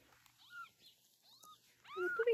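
Young farm kitten giving high, thin mews, a few short calls spread across the moment and rising in loudness toward the end, with children's voices nearby.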